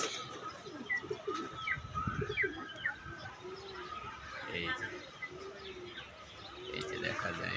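Pigeons coo repeatedly over steady outdoor ambience at a loft where young birds fly out and land, with chirps scattered throughout and someone talking now and then.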